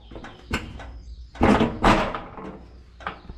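Newly bought inner doors at an off-grid home being handled and pushed open, with a few knocks and scraping clunks, two louder bangs in the middle, and a short rustle near the end.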